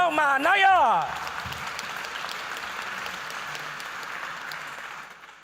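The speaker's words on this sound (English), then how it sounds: "Another big round of applause to Tau Mānaia." An audience at a governing body inauguration ceremony applauds steadily after a voice at the start, a broad, even wash of clapping that fades toward the end.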